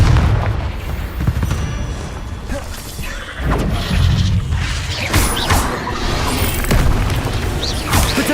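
A Confringo fire spell blast in a Harry Potter video game: a dense, loud, sustained roar of booming explosions and mechanical crashes, with repeated impact bursts layered over one another and no pause.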